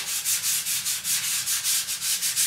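Sandpaper of 220 grit rubs by hand over a coat of Minwax oil-based fast-drying polyurethane, making about a dozen rhythmic, evenly spaced swishing strokes, close and fairly loud with no talking.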